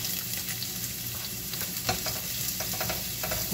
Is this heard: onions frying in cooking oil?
yes